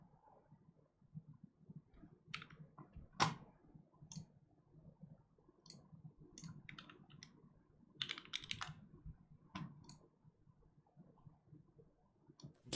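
Quiet, irregular clacking of keys on a mechanical keyboard, close up, with scattered sharper clicks and no talking.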